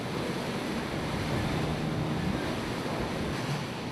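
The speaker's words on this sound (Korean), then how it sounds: "선수에서 부서진 물보라가 데크를 집어삼킬 듯 날아든다" Rough Arctic sea waves and spray breaking over the bow of the ship Stena, making a dense, steady roar of surf and wind that is close and continuous, with no voices.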